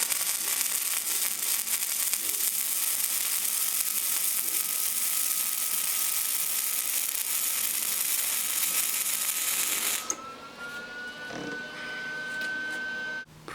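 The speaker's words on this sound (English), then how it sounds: "I'm going to do the other side of the rod here just to give it a good full weld on both" A welder runs a bead on a rod in a straight-pipe exhaust for a Dodge Viper, a loud, steady crackling sizzle lasting about ten seconds before cutting off to a quieter hum.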